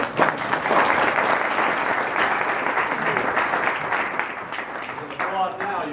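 An audience applauds loudly and steadily, with a voice starting to speak as the clapping thins near the end.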